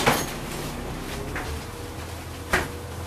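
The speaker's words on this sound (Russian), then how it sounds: "Осторожно, двери закрываются." Doors on a MAZ-107.466 city bus in Saint Petersburg slide and shut with a sharp thump at the start, a softer knock midway and a final clunk, set against a low engine rumble.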